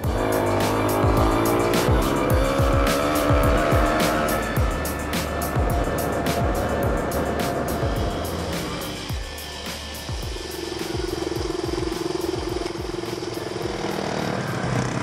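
Small Suzuki dual-sport dirt bikes, a DR-Z250 and a DR200SE, ride off-road through the Pine Barrens, with loud, close single-cylinder engine revving and shifting that rises and falls steadily across the whole stretch, with no talk.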